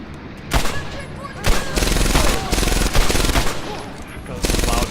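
Machine gun fire in Medal of Honor: Airborne, loud and near, coming in long sustained bursts separated by short gaps. Some faint in-game voices sit underneath.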